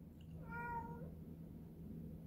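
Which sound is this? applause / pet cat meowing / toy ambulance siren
pet cat meowing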